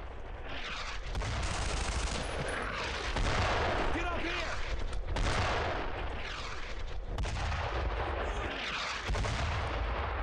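Heavy World War II battlefield din from Brothers in Arms: Road to Hill 30, with dense gunfire, booming mortar-like blasts and crackling shots that run loud and continuous throughout, plus voices under the combat.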